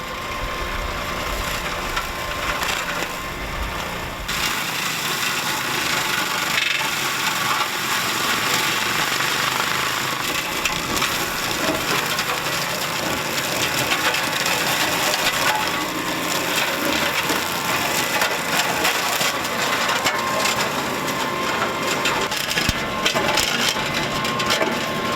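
A brush mulcher grinds and crushes wood in steady, loud, continuous churning with splintering crackles over a heavy engine drone, sustained for the whole stretch without talk.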